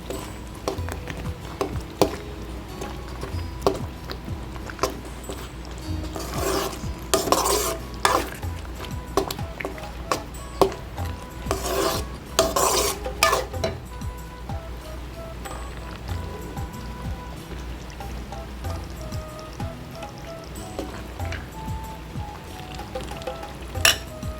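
Thick tomato pickle with jaggery bubbles and sizzles in a pan while a spoon stirs and scrapes against metal in repeated bursts, with occasional louder clatters.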